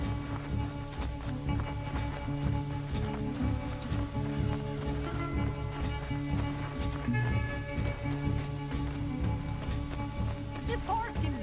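In Red Dead Redemption 2, a horse gallops in a fast, steady clip-clop of hooves, close and continuous throughout, with some game sounds layered over the running rhythm.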